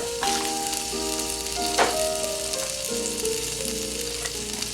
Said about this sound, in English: Oh, she's a sizzling. I like it when it sizzles